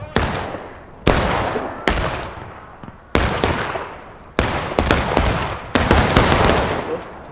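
Musket and rifle volleys at a Manassas Campaign Civil War battle reenactment, six sharp loud bursts spaced about a second apart, each ringing out with a rolling echo and overlapping scattered shots.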